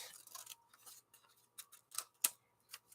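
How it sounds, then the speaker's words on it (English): Scissors snipping a wiggly line through thin magazine paper: a few quiet, close, irregular cuts with small crisp snips and soft rustles in a quiet room. "I'm just going to cut a wiggly line up the text"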